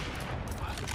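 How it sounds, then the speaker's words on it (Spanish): Desert Eagle fire in a competitive shooter match, dense and loud with overlapping gunfire and explosive bursts filling the whole moment. "va metiendo balazo con la Deagle"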